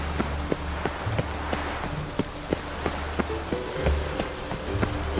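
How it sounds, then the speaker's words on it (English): Rain falls in The Witcher 3 video game, a steady hiss of downpour with sharp, regularly spaced taps like footsteps over it, moderately close and with no talking. "Looks like rain."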